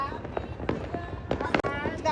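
Firecrackers and fireworks set off for New Year pop in a few loud bursts, one very sharp bang near the middle, with excited voices talking over the noise.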